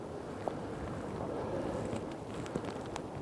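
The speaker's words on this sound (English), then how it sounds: "now it's really windy now" Steady wind rushes outdoors, buffeting the microphone with a constant low roar and a few faint knocks, no voices.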